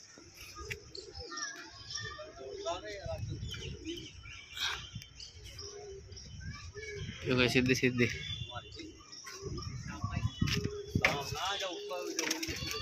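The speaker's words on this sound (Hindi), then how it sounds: "ये देखेगा इस सामने कबूतरी बैठी है" Pigeons coo and birds chirp softly in the background while someone speaks over them, with children's voices faint in the distance.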